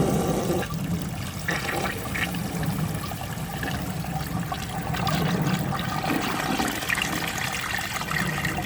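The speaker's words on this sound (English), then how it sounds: "You guys saw that flush just as well as I did" A blue 1963 American Standard Cadet toilet flushes in one continuous, loud rush of water, the gurgling churn steady throughout with no talking over it.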